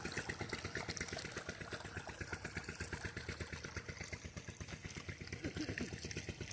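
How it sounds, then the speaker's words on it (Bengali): Irrigation water pumped through laid pipes into a farm field, a steady rapid pulsing engine-driven pump rumble with continuous gushing water, fairly faint, with a voice talking faintly over it. "আজকে এই জমিতে আমরা সেচ দিচ্ছি।"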